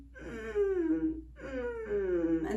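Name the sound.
voice imitating a creaking door, vocal creak exercise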